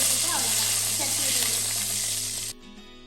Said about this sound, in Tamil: இப்போ கொஞ்சம் கருவேப்பிலை போட்டு எடுத்து அவ்வளோதான் சட்னி